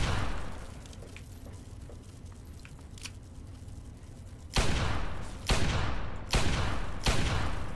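Gunfire in the video game Fallout 3: after a quieter stretch of faint ambience and small clicks, four loud, heavy shots or blasts land in quick succession, each booming and decaying briefly.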